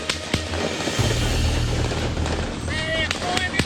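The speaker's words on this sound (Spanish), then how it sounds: "Esos son balazos" Gunfire from street violence in Mexico crackles through a played recording, sharp distant shots popping over a noisy rumbling background while people talk.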